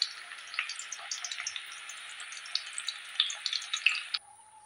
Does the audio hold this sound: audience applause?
no